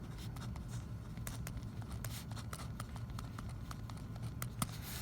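A pen writes on paper while a math problem is worked out, with a steady soft scratching and a series of quick ticking strokes, close to the microphone over faint room noise and with no talking.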